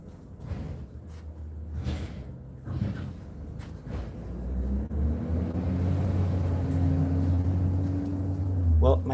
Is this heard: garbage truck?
yes